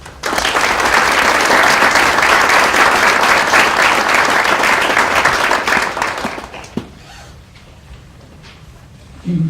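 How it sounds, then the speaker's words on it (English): A large convocation audience applauds donors and scholarship recipients, a dense, loud, sustained wash of clapping that fades out after about seven seconds into quiet room noise. "Let's give a round of applause for the donors and for the recipients."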